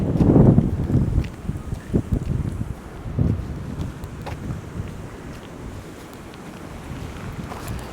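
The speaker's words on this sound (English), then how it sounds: "the wind's blowing" Cold morning wind gusting across the microphone outdoors in Dartmouth, loud low rumbling buffets in the first seconds, then a steadier, fainter blustery roar with occasional bumps.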